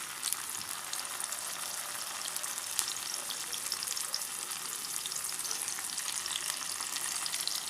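Ginger garlic paste frying in ghee for a kidney bean pakoda recipe gives a steady, even sizzle with fine crackling that holds at moderate loudness throughout, with no talking.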